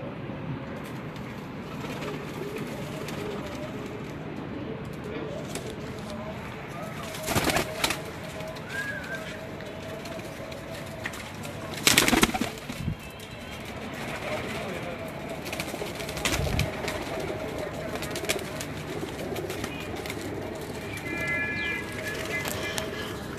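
Pigeons coo on a rooftop, soft repeated calls scattered through a long stretch of low rustle and ambient noise, with a few sharp louder bursts and a person talking intermittently nearby.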